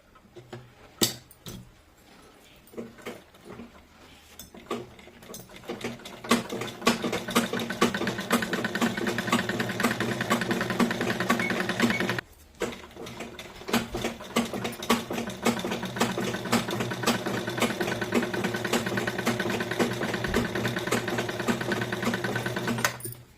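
A sewing machine runs a straight seam joining the back and front panels of pleated palazzo trousers, a steady close whirring hum that starts haltingly, cuts out briefly, then resumes and keeps going evenly.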